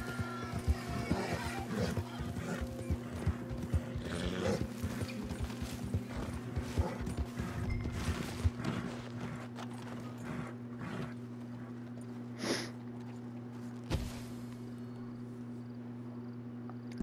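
Horse hooves clip-clop steadily in Red Dead Online, a continuous close rhythm over a humming game soundscape, with a couple of sharper knocks near the end.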